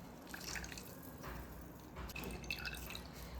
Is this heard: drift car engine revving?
no